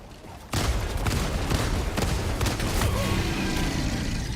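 Dense, rapid gunfire bursts erupt suddenly after a short quiet lead-in, loud and continuous with booming impacts, as a soldier shoots at an enemy's chin turrets in the co-op shooter game Helldivers 2.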